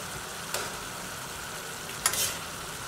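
Gambas (prawns) frying in a pan with garlic give a steady, close sizzle, with two brief sharp crackles rising above the hiss.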